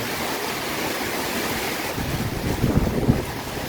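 Steady, strong typhoon wind roars and buffets the microphone, with heavier gusts thumping low near the end; no voices.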